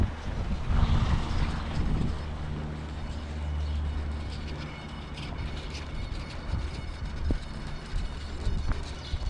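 Gusty wind buffeting the microphone beside an outdoor pool where an RC Twin Otter seaplane is flown, a low rumbling roar rising and falling throughout.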